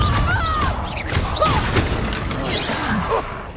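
The Confringo blasting spell explodes in the Hogwarts Legacy video game, a dense burst of crashes, whooshes and thuds packed with magical swishing effects and a continuous heavy rumble throughout.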